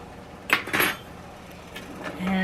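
A spoon scrapes and clinks against a pot as pecans are stirred into praline syrup, with two sharp metallic knocks early on and then softer, intermittent scraping.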